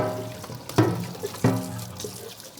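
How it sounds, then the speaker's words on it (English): Tap water runs and splashes into a Hurom slow juicer's pulp bucket as it gets a rinse, a close, continuous gush broken by a few louder sloshes and clunks of the container. "just give the pulp buckets a rinse"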